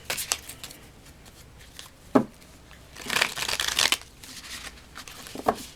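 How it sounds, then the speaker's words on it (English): Tarot cards being shuffled by hand, giving a few separate papery riffles and rustles, the loudest burst in the middle, close and fairly quiet with no talking. "let's get some tarot cards"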